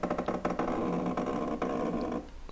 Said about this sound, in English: that's the sound of the rotary axis moving in the plastic bushing